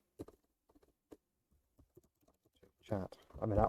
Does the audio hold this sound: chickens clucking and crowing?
no